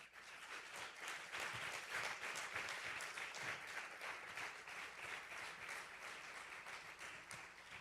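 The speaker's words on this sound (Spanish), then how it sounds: "Denle un aplauso al Señor." Congregation applauding during a church service, a dense, steady wash of many hands clapping that sounds somewhat distant and fairly quiet, continuing evenly throughout.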